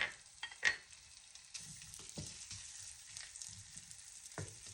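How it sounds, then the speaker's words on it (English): Sausage frying in leftover bacon fat, a soft, steady sizzle with occasional sharper pops and scrapes of stirring, fairly quiet and close. "now we are going to add our sausage in the same bacon fat."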